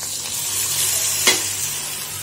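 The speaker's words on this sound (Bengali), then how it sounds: "চালটাকে ভালোভাবে নাড়াচাড়া করবো" Rice fries in a pan for egg pulao, a continuous loud sizzle with stirring and one brief scrape partway through.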